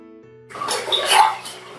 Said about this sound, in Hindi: मैं इस पर पानी डालती हूँ,